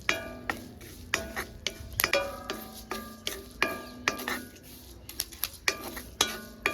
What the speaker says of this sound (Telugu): బాగా బ్రౌన్ కలర్ వచ్చేంత వరకు వేయించుకోవాలండి